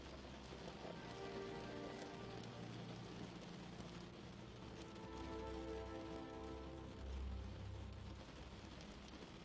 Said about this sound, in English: With the sound of each raindrop, your mind tunes out and into sleep.